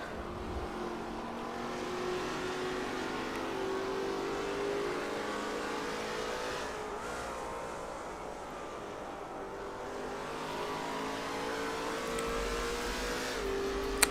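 VRL Commodore race cars circulate the Surfers Paradise street circuit as a steady engine roar. Several engines drone and shift pitch together at an even, sustained loudness, with no talk.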